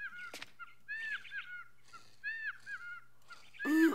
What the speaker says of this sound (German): Behinderter Vogel.